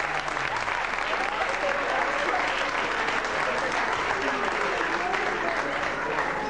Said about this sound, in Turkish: Efendim alkışlıyoruz.